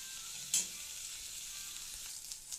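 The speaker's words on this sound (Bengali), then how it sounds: "এগুলো সব শুটকির মাথা আমি তেলে ভাজতেছি।" Dried fish heads frying in oil, a quiet continuous sizzle with one sharp clink of a utensil early on and faint stirring noises after it.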